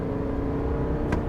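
A 2023 Chevrolet Silverado Trail Boss with a turbocharged inline-six diesel accelerates hard, giving a brief, steady, close engine drone with no voices.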